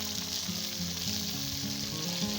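Tomatoes and onions sizzle and fry in a pan for baingan bharta, a steady close crackle with faint stirring and no talk.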